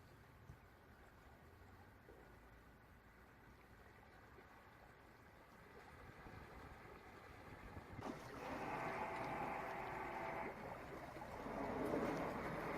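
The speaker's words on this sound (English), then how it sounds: "The wind was blowing across the bow of Chuggabug, so if anything it would help me with the mooring" Wind blows across a moored motor boat. A low rumble of gusts and water slowly builds, rising into louder, breathier surges near the end.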